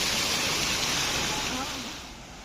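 A waterfall in Meghalaya, heard from above the falls, roars as a loud, broad, steady rush that fades slightly toward the end.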